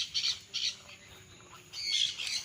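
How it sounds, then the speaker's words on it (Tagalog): Pet birds on a farm in Liliw, Laguna squawk in a few loud harsh bursts, close by, with quieter background noise between calls and no talk. "Meron silang alagang mga ibon mga kapraps."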